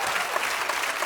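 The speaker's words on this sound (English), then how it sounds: "I'm gonna let y'all clap for that" A studio audience on a talk show claps in a brief, dense burst of many hands, loud and close with no break.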